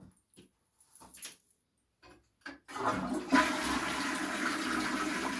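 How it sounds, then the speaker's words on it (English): A household toilet with aging valves flushes with a sudden rushing surge, then settles into a long steady hiss of the tank refilling, after a few scattered thumps and small sounds. "Go ahead and flush it, and then when it fills itself back up."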